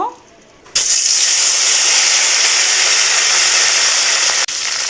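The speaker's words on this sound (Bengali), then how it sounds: "সো এখন আমি মাছগুলো দিয়ে দিব ভাজার জন্য।" Fish frying in hot oil in a pan, a loud steady broadband sizzle that starts abruptly and holds at an even level for several seconds before cutting off near the end.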